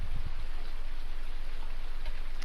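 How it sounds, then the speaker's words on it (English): Rain falls steadily on a farm during harvest season, a constant close hiss of drops hitting surfaces with a few soft thuds near the start and no one talking. "It's raining, we can't harvest"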